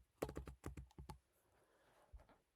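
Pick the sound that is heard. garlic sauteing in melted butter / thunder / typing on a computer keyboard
typing on a computer keyboard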